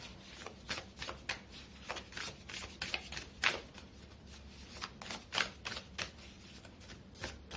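Oracle cards are shuffled and drawn by hand in a quiet room, a string of soft, rapid papery riffles and flicks in uneven bursts, close and faint with no talking.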